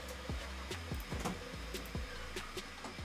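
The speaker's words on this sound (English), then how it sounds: "sorry about the printer noise in the background" 3D printer printing knobs for rotary encoders, running faint in the background: soft stepper-motor whirs and repeated quick tonal sweeps in a steady, busy rhythm.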